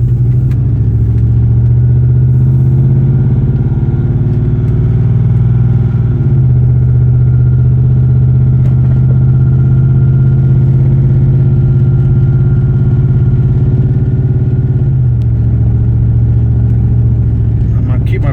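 A 2002 Dodge Durango with a 4.7L V8 that seems to load up or flood runs close by at raised RPM, a loud steady engine drone whose pitch dips and shifts twice as the revs change.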